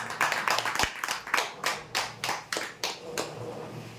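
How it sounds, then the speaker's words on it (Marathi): A room full of people claps for lucky draw winners at a prize draw event, a steady run of sharp, near hand claps repeating about every third of a second, fairly quiet and with no talking. "जोरदार टाळ्या होऊ देण्यासाठी"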